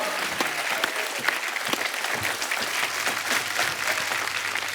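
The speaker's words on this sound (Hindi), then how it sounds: "तालियां बजती रहनी चाहिए आपकी" Studio audience on the Kapil Sharma Show clapping steadily, a continuous crowd of hand claps at moderate volume throughout, with no talk over it.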